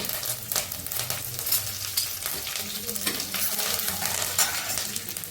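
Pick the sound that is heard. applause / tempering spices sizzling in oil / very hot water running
tempering spices sizzling in oil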